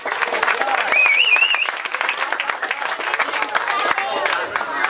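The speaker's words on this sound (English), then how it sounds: "Let's have a round of applause for Simon." Audience applause for Simon at a community garden festival, a full crowd clapping steadily and loudly for several seconds, with a whistle rising briefly above it and voices mixed into the noise.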